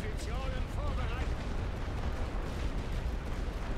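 Light guns fire steadily on a World War I Western Front battlefield in a strategy game, the shots blurring into a dense, unbroken roar of combat that holds at the same loudness from start to finish.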